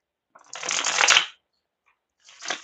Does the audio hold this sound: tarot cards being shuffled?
yes